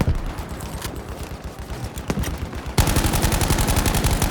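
Rapid gunfire in the video game Battlefield V, dense bursts of automatic shots cracking close and loud, then a heavier, continuous stream of fire in the last stretch, no voices.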